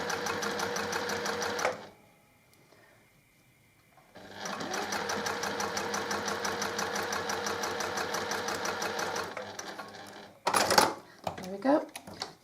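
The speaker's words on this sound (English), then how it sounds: "you're just going to sew that in place right to the end." A sewing machine stitches a zipper pouch seam in two rapid, steady runs of mechanical clatter separated by a pause, followed by brief handling noises and a voice.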